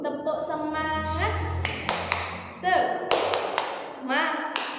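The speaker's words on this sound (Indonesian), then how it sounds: "Tepuk semangat." Children in a classroom perform the rhythmic spirit clap (tepuk semangat), a few sharp claps and taps in quick bursts mixed with chanted young voices, close and lively, with talking throughout.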